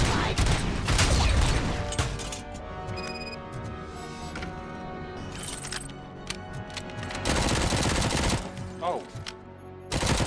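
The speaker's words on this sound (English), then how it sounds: "Why are you shooting?" Dense gunfire in the shooter game Robocop: Rogue City, a loud, continuous clatter of rapid shots and impacts that thins briefly midway, then surges again near the end, with one short exclamation from a voice.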